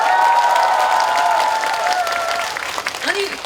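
Outdoor festival crowd at a soil-revival expo in Gure clapping in the rain, a sustained wash of applause mixed with sung or held vocal tones, thinning toward the end with a few scattered claps.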